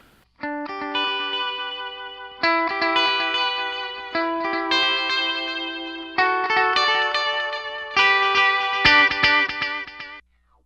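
A driven electric guitar through a Line 6 POD HD500x rings out sustained chords that change every couple of seconds, bright and slightly gritty with a shimmering, chorused edge, played alone.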